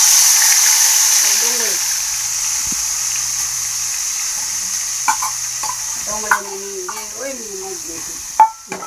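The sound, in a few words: tomatoes added to hot tempering for paneer curry, sizzling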